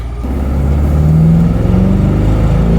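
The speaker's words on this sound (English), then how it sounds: "It sounds like a V8 muscle car." A deep, throaty V8 engine of a twin-turbo C8 Corvette sports car revs up and rumbles loudly nearby, its pitch rising steadily with no voices present.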